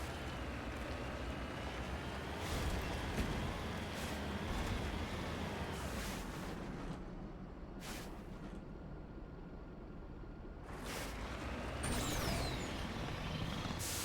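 A heavy vehicle engine in Mass Effect rumbles steadily with rough, shifting texture and occasional bursts of hiss and clatter, loud and continuous throughout.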